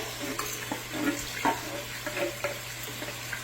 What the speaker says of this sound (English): I'm going to pour now in the cans of sauce.